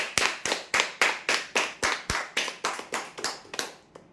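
Rhythmic, evenly spaced claps, about fourteen sharp ones, ring out close and loud as applause for a prize winner at a weekly lucky draw, then fade and stop.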